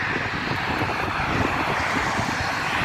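A UNI Air ATR72-600 turboprop airliner in penguin livery roars at Taipei Songshan Airport on its takeoff roll, a loud, steady, close propeller-engine drone throughout.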